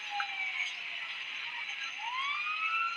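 Wailing police sirens in the video game GTA 5, several overlapping tones sweeping up and down continuously in the distance with no talk.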